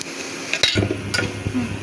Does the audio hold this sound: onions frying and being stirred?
yes